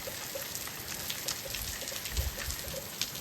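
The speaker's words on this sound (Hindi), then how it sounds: "यहाँ पर इतनी ज़बरदस्त इतनी खतरनाक बारिश हो रही है" Steady heavy rain pouring down in the hills, a dense hiss of drops with scattered heavier splashes and a faint bird call or two in the background.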